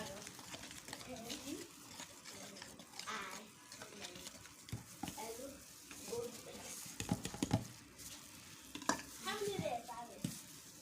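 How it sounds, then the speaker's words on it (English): Homemade medicated dusting powder being mixed in a small batch, giving soft, irregular scraping and stirring rustles that come and go beneath a voice talking throughout. "I'm just mixing it there before adding it back to the main batch"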